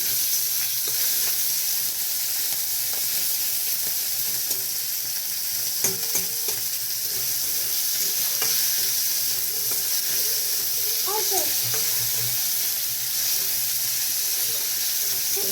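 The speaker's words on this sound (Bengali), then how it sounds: "তেলটা গরম হয়ে গেছে, আমি চিংড়ি মাছগুলো একটু ভেজে নিই।" Prawns frying in hot oil for a lau chingri dish, with a steady broadband sizzle and occasional stirring clicks throughout, close and moderately loud, no talk.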